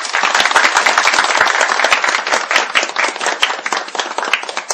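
Applause in a parliament session, a dense, steady wash of many hands clapping together at close range, sustained for several seconds with no talk over it.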